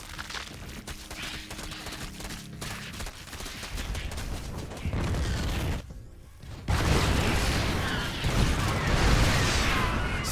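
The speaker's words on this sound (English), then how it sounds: "Siege Tank's going to get some good fire down, but they will get cleaned up." Siege Tank artillery fire and explosions in a StarCraft 2 match, a dense run of rapid bursts and booms with a short near-silent gap before louder blasts resume.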